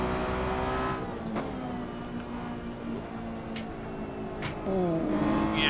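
Ferrari 488 Challenge Evo race car engine in Assetto Corsa, a steady loud engine drone with gear-change shifts, rising in pitch near the end as it revs harder, heard alone.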